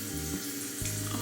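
Tap water runs steadily into a bathroom sink for facial cleansing, a continuous close splashing flow that shifts slightly near the end.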